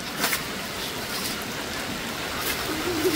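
Rain falls steadily outdoors while children play in it, a soft broadband hiss that stays fairly even throughout with a few brief louder spatters.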